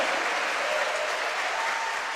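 A church congregation claps together in dense, sustained applause that fills the room, steady and loud from start to finish.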